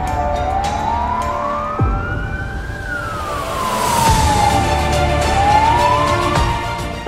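A fire engine siren wails loud and close as the truck responds to a burning stubble field, its tone sweeping up and down in long slow cycles over steady traffic and engine rumble.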